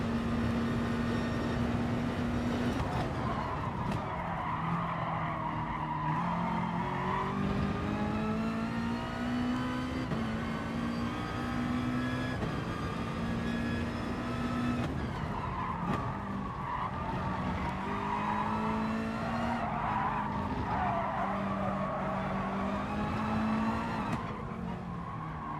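A Honda NSX race car in GT Sport on medium tyres drones steadily, its engine pitch rising and falling through gear changes while tyres skid and scrub almost continuously, with no talking.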